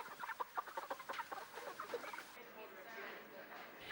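White Hubbard chickens clucking on a free-range farm, a flurry of quick, soft clucks and squawks close by that trail into a quieter murmur of birds.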